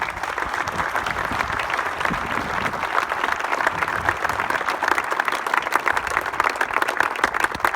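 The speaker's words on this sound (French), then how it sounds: "vous méritez aussi de grands applaudissements" Sustained applause for mayors at a Bastille Day ceremony in Morbihan, a dense, steady clapping from a crowd that fills the whole stretch evenly without pause.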